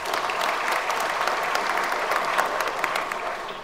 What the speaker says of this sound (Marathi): आपण टाळ्या वाजवून अभिनंदन केलं पाहिजे